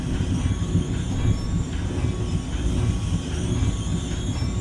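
A multilevel commuter train on the North Jersey Coast Line shuttle from Long Branch to Bay Head runs steadily in Train Simulator 2019, a constant rumbling drive with light rhythmic rail clicks and soft wheel squeal.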